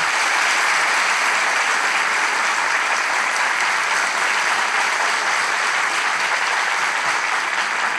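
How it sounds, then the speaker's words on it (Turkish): A studio audience at a Turkish talk show applauds as guests come onto the stage. The clapping is steady and loud and continues without a break. "Sevgili Atakan ve Zeynep'i arkadaşlarımı alkışlarla sahneye davet ediyorum."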